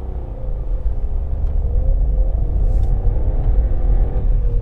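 A Skoda Fabia's engine rumbles low and steady in the cabin, with a deep uneven drone that continues throughout.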